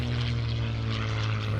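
Vintage WWII propeller planes fly past with a continuous loud droning engine roar and a steady low hum.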